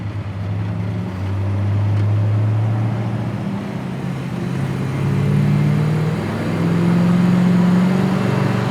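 A 1974 Dodge Dart Sport accelerates with a deep, steady engine drone that rises and falls in pitch through the gears, heard from inside the car with no talking.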